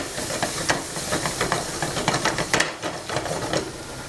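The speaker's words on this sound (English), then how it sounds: "So we're browning the rice with the onions." Rice browning with onions in a hot pan for risotto, cooked over a lively flame, gives a steady hiss and sizzle with soft crackling bursts throughout, close and moderately loud with no talking.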